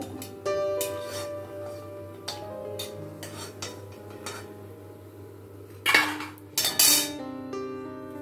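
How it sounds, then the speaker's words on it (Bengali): A metal ladle knocking and scraping inside a cooking pot, with light clinks over a quiet background hum, then two louder bursts of scraping near the end. "দেখো আবার হাতা লাগাবো।"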